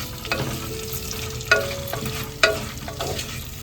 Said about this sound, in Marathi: कांदा ना आपला थोडासा परतून झालेला आहे.